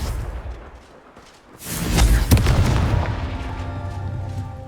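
A Confringo spell explosion in the video game Hogwarts Legacy lands as a single sharp, loud boom after a quiet lead-in, followed by a rumbling debris tail that fades slowly.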